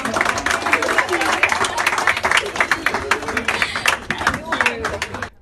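Dense applause from a crowd, many hands clapping steadily throughout, with a voice talking over it.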